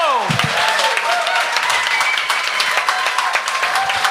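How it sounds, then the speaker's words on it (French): A comedy show audience applauds a comedian, a dense, steady roll of clapping with voices and cheers mixed through it, loud and continuous. "On peut applaudir Ron Trépanier, tout le monde!"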